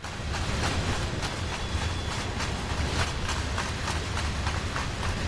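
Steady rumble of a train running on rails in Train Sim World's NEC New York route, with a regular clickety-clack of wheels over rail joints, loud and continuous with no talking.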